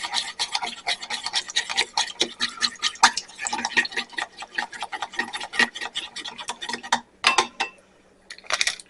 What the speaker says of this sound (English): now we're just going to go ahead and stir this really well